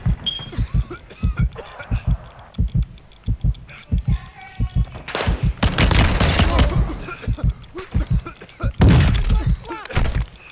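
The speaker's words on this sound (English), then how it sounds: "You are taking effective fire" Gunfire in a Call of Duty match: a rapid string of short punchy shots, then heavier bursts and impacts, with players talking over the action.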